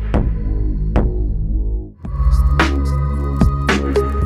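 Dubstep wobble bass played through a SourceAudio Manta bass filter pedal, with a HotHand3 motion controller: loud, throbbing, heavily filtered bass that pulses in rhythmic surges, with a brief dip in the middle before swelling back.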